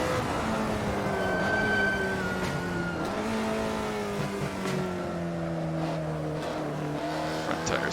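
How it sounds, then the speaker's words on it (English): Tires squeal on an Alfa Romeo 33 Stradale in the racing game Assetto Corsa, a thin sustained screech riding over the loud, steady rasp of the engine as it pulls through the gears. "Tires searching for grip, squealing in pain."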